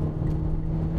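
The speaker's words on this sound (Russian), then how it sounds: "Поначалу машина стартует весьма динамично." Mitsubishi Eclipse Cross crossover pulling away from a start, a steady moderate engine hum with a low tonal drone over its short span.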